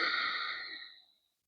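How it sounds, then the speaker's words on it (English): A single deep exhale through the nose during a gentle yoga breathing exercise, soft and close, trailing off after about a second into silence. "And exhale through the nose."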